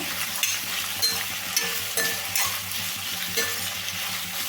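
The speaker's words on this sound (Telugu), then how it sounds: "మీడియం ఫ్లేమ్లో పెట్టుకొని లైట్గా అయితే వేయించుకోవాలండి" Bitter gourd pieces frying lightly over a medium flame hiss steadily in the pan while a spoon stirs them in regular scraping strokes, close and fairly loud.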